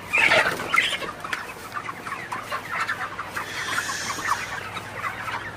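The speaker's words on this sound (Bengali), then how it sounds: "তো মুরগিগুলো এখন মোটামুটি সুস্থ আছে।" Broiler chickens in a poultry shed, clucking close by in short bursts that are louder at the start, then a steady murmur of flock sounds against a low hum.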